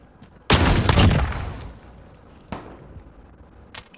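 Gunfight in a 3v3 shooter video game: a loud burst of gunfire erupts and rings out for about a second, trailing into echoing decay, followed by two fainter, sharper single shots later on.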